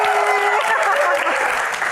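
Dense, loud audience applause at a live Q&A show, sustained clapping from a crowd filling the whole moment without pause.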